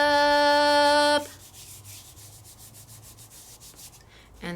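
Adhesive foil paper rubbed by hand onto a die cut, a soft, steady scratchy rubbing that follows a loud tonal hum in the first second, with a faint thump near the end.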